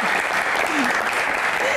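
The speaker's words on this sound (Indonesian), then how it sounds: "Tepuk tangan luar biasa." Dense applause from a crowd, steady and sustained throughout with no pauses.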